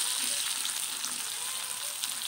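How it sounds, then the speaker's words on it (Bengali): Potatoes frying in hot oil while a katla fish curry is cooked, a steady close, loud sizzle with a continuous crackling hiss and small pops, no voices. "আলুগুলো বেশ ভাজা হয়েছে"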